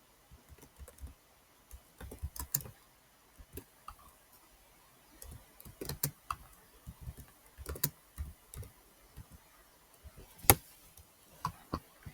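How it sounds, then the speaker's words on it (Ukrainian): Typing on a computer keyboard, quiet rapid bursts of key taps in uneven runs with short pauses between, close and clear. "І пишемо якесь description, типу, я Манкі Ді Луфі"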